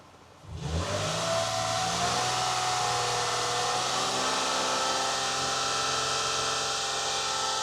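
A car engine is revved up and held steadily at about 2500 RPM during a battery charging test, a loud, sustained drone that starts after a brief quiet moment and holds without people talking.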